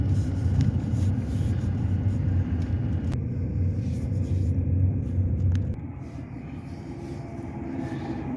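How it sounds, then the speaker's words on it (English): Heavy traffic including semi trucks passes on a frigid North Dakota road, a steady loud rumble of engines and tires that drops to a lower, quieter drone partway through, with no talking. "A lot of damn semis out here."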